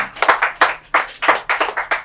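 Scattered bursts of hand clapping ring out at a French rap battle, short uneven volleys in a loose rhythm, close and fairly bright, with no clear cheering voices.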